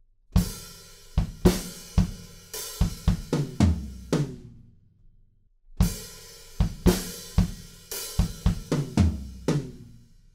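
A drum fill on a drum kit from a pop song plays twice: quick strikes rolling across the drums, then a ringing decay and a brief silence before it repeats, loud and close with no talking.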